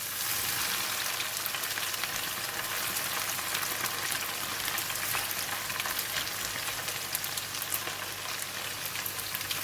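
Anchovies dropped into very hot oil crackle and sizzle densely and continuously at close range, a bright, even frying hiss with no voices over it.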